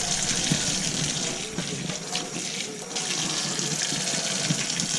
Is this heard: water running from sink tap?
yes